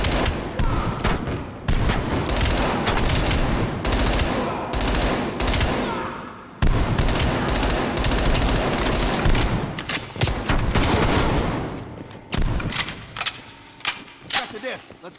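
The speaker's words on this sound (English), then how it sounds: "Is he really trying to use the shotgun from back there?" Call of Duty Black Ops Cold War firefight: loud bursts of rapid gunfire repeat in clustered volleys with brief gaps and heavy thuds, while voices talk intermittently over the shooting.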